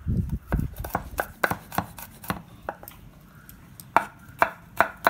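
Knife chopping chicken on a cutting board for chilli chicken, a rapid irregular series of sharp close thuds and taps that thins out toward the end, with no voices.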